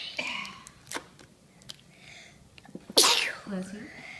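A single sharp sneeze bursts out near the mic, set against a quiet room with faint handling rustles and soft background voices.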